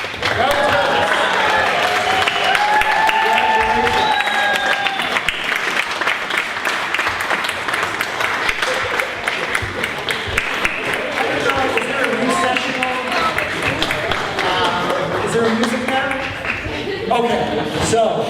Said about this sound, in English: everybody stand up and cheer and yell, "Go Terps."